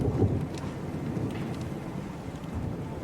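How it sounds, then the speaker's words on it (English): Low rumbling booms of distant gunfire roll through a radio drama scene at sea aboard a naval ship, a steady muffled low-frequency murmur with no voices over it. "Oh, gunfire."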